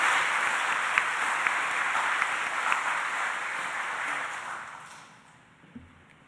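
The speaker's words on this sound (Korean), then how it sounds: "성가대 잘했다고 크게 한번 박수 치겠습니다." A church congregation gives the choir a loud round of applause at a Sunday service, steady clapping with a few sharp claps standing out, then tapering off and fading to near quiet.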